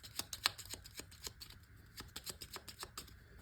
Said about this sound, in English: I'm gonna shuffle these up.